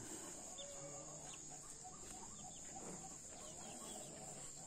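Chickens cluck softly in the distance over a steady hiss of outdoor background noise, with no talking.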